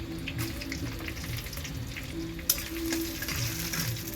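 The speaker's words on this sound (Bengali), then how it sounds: "তেলটা গরম হয়ে গেছে, তেজপাতা শুকনো লঙ্কা, খিচুড়ি তো একটু বেশি লঙ্কা দিতে হবে।" Bay leaves and dried chillies fry in hot oil for khichuri, a soft continuous sizzle and crackle with faint kitchen clatter and one small sharp tick midway.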